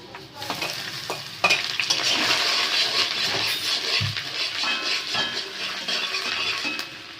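Garlic and ginger fry in hot oil for restaurant-style mixed fried rice, giving a loud, continuous sizzle with bursts of crackling and a few metallic spatula clinks against the pan, no talking.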